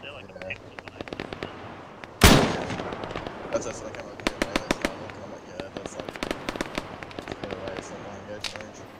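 Gunfire in the video game Arma 3, aimed at moving targets: one loud close blast followed by a string of sharp, irregular shots with echoing tails.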